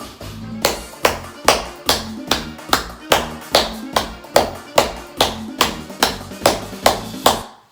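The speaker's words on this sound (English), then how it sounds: "Now, clap this merengue beat with me." Hands clapping a merengue beat in an even, driving rhythm, about eighteen sharp claps over a low musical backing, loud and close.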